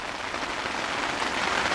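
Rain pattering steadily on a Coleman weatherproof pop-up tent, a dense, even hiss of drops close overhead with no voices.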